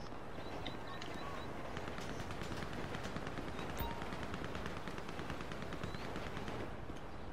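Dense, continuous gunfire in GTA 5 during a police roleplay shootout, rapid overlapping shots crackling steadily throughout with no pauses, loud and busy from start to finish.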